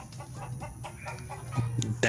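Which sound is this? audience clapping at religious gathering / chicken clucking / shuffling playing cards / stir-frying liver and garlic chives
chicken clucking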